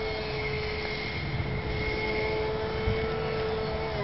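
Scratchbuilt 70mm electric ducted fan RC jet with thrust vectoring held at full throttle: a steady, loud, high-pitched whine with a constant tonal hum, unbroken for the whole stretch and with no voices.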